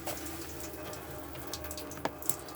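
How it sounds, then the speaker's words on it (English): Water running continuously from a tap on board a 2022 Coachman Arcadia 575 caravan, a steady soft splashing stream with a couple of brief clinks near the end. "you'll have water running continuously out of every tap on board the caravan"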